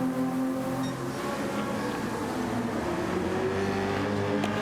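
A race car drifts sideways up the hill after Eau Rouge at Spa in a racing video game, its engine a steady loud droning whine with slowly shifting pitch and gritty tire noise.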